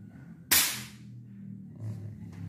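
A single Canon Rocket air rifle, 14.2 grain pellet at 940 fps, fired outdoors: one sharp, loud crack followed by a short fading tail, then quiet background.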